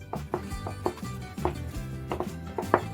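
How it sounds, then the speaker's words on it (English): A knife chops pitted Kalamata olives on a cutting board, roughly a dozen close, crisp taps in an uneven quick rhythm, with no talking. "We're going to chop some Kalamata olives."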